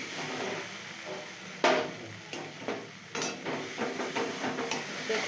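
A spatula stirring and scraping chicken curry with cashew paste in a sizzling pan, giving repeated irregular scrapes and clinks over a steady soft frying hiss, close and clear.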